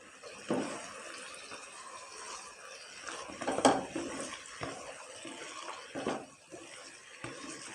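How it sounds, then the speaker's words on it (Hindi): Besan boondi is stirred and fried in masala in a pan, giving soft sizzling under a few sharp metallic scrapes and clinks of a spoon against the pan, faint and close. "इसको 1-2 मिनट के लिए हम फ्राई करेंगे।"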